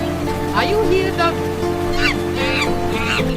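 A duck quacks several times in a short series of honking calls, loud and near over steady background noise and a low hum.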